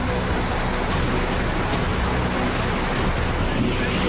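Floodwater from monsoon rains rushes over roads, a steady, loud, broadband roar of churning water with no pauses and no speech.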